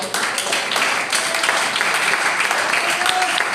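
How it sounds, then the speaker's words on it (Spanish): A church congregation applauds during a sermon, producing a dense, continuous roar of clapping that stays loud and even throughout, with voices mixed faintly into the crowd noise. "Den un aplauso al Señor."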